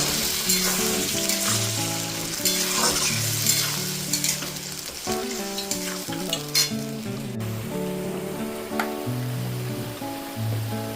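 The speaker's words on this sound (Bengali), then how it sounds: "লঙ্কা, পেঁয়াজ, রসুন এটাকে আমি দিয়ে দেবো। ভালো করে কষিয়ে নেব।" Chilli, onion and garlic with tomato and ginger paste sizzle steadily in a hot pan for a mushroom dish, a broad frying hiss with scraping stirs, and background music plays throughout.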